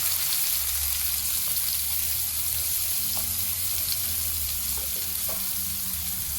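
Onions sizzling and frying in a pan for a Konkan monsoon wild-vegetable dish, a steady close crackling hiss with a low hum underneath.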